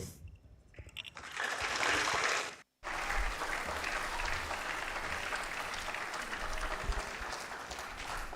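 Audience at a summit claps loudly, rising quickly into sustained applause from a large crowd that breaks briefly, then resumes and continues steadily.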